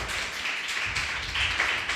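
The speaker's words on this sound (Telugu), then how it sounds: "పూర్ణ మనసుతో చప్పట్లు కొడుతూ" A church congregation clapping in praise, a dense, continuous patter of many hands at moderate volume for about two seconds.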